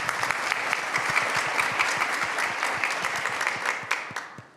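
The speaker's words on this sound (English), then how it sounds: "how about we give them a big round of applause?" Audience applause fills a conference panel hall, a dense steady clapping from a large crowd that holds for several seconds before tapering off at the end.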